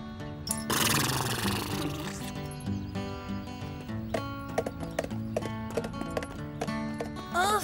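Horse hooves clip-clop nearby over a tonal musical background in a French cartoon, with a brief whinny-like burst early on.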